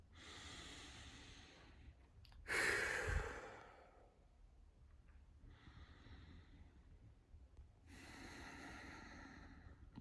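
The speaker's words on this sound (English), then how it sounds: "Very simply, you take a breath." A person draws one deep, audible breath in and lets it out slowly, close and quiet, followed by a still pause and then a second long, soft breath near the end.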